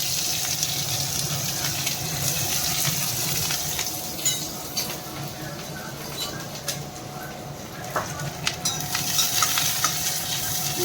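Garlic and onion frying in a pan at home, a steady broad sizzle with faint clinks and stirring, no talk over it.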